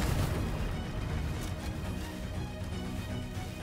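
Gunfire and explosive bursts from a Fortnite match crackle and boom densely in rapid succession, loud and sustained, with no voices over them.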